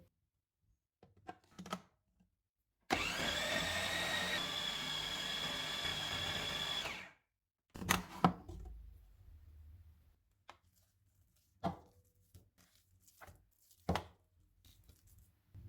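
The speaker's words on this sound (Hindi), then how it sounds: "इनको कंबाइन होने तक चॉप करेंगे" A kitchen chopper whirs loudly for about four seconds, breaking down a fish kebab mixture with egg, spices and flour. Scattered clicks and knocks follow in a quiet room.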